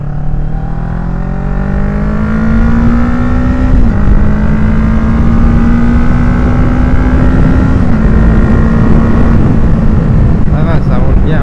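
A motorcycle engine drones loudly and continuously while riding to school, its pitch climbing gradually with brief dips at gear changes and wind rushing over the steady hum.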